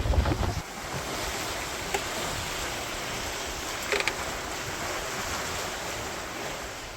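Steady roar of wind and breaking waves on open ocean, heard from a small Globe 580 sailboat on a solo Atlantic crossing in 15 to 18 knots of breeze. The wind noise is constant and loud, with a few faint knocks from the boat.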